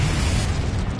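A Confringo blasting spell in Hogwarts Legacy sounds as a loud, dense explosive roar, a close and sustained booming burst that fills the whole moment with no talking.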